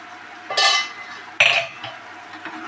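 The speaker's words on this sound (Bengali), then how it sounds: "বন্ধুরা চলুন ঢাকনা খুলে দেখি কতটা কি হলো।" A lid is lifted off a pan where a spice paste for bata fish fry is cooking, giving two clanks of metal against metal, the second sharper, followed by a soft sizzle.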